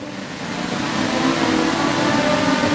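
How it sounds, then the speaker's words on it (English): Several race cars run on the oval at Sauble Speedway during a Great Lakes Legends event, their engines droning steadily and a little distant, the sound swelling slightly as the cars pass, with no talk. "And this many cars on the track."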